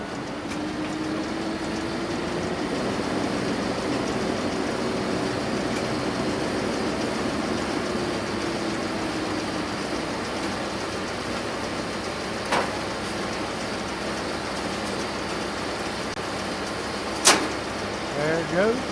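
A new baler runs steadily up toward full RPM, its engine droning and rising slightly in pitch, with a couple of sharp clanks near the end.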